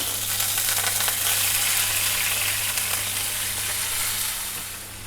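A quarter cup of water hits hot oil tempering with white sesame seeds and curry leaves for patra, giving a steady close sizzle and hiss over a low hum that eases off toward the end.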